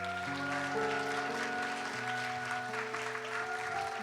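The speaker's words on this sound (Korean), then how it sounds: "큰 박수 부탁드리겠습니다." A church congregation at a Christmas Eve youth service applauds a new member's graduation, steady clapping under sustained organ or keyboard chords that continues for several seconds.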